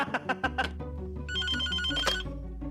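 A telephone rings with bright repeated bell tones, loud and close, in a scene from a 1990s Hindi film; a low tone and a faint voice sit underneath.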